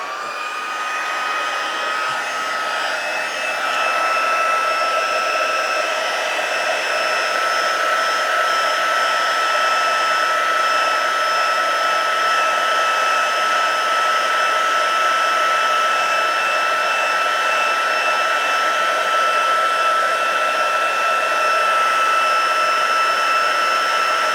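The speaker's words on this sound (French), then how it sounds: "Et je vais chauffer au sèche-cheveux." A hair dryer blows steadily and loudly for the whole stretch, heating embossing on a card, a constant whirring hiss with a high motor whine and no voices.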